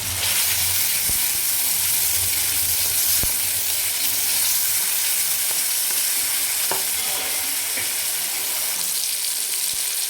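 Chopped tomatoes frying in a pan for Maharashtrian cabbage chutney give a steady, close sizzle and hiss the whole way through, with a few faint stirring clicks and no talking.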